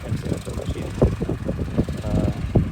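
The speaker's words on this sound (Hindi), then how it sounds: "तो ये सामने एक्सीवेटर मशीन" An excavator loads a tractor trolley outdoors, a loud rumbling diesel engine with irregular knocks and clanks of the bucket and material close by.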